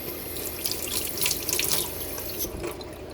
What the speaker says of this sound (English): what I do is I rinse the salt off my fat back